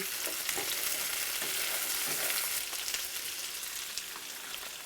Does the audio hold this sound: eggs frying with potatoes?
yes